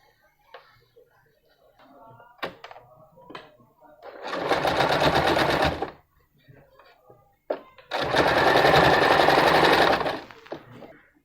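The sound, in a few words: sewing machine stitching fabric face mask frills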